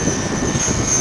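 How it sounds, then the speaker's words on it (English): A radio-controlled T-Rex 500 helicopter flies nearby, giving a steady, loud rotor and motor whine with a high sustained tone and no break. "His heli goes so much better than mine"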